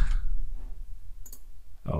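Computer mouse clicks while right-clicking to extract a zip folder: a couple of sharp, quick clicks close by, with a voice talking around them.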